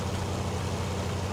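A 280-horsepower Lizard 1128 tractor in Farming Simulator 19 pulling on flat ground, its engine a steady, low, droning hum throughout with no pauses.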